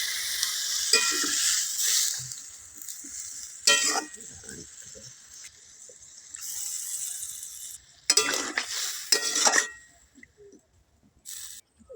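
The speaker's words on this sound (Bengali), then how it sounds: "এবার সিদ্ধ হওয়ার জন্য কিছুটা জল দিয়ে দেব।" Bottle gourd curry frying in a pan sizzles loudly in several bursts as water goes in, with quieter hissing stretches and stirring between the surges.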